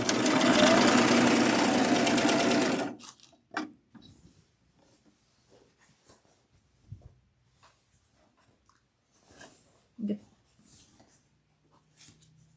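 A serger stitches binding onto a quilt in one steady run of dense mechanical whirring lasting a few seconds, then stops, leaving only faint handling clicks and fabric rustles.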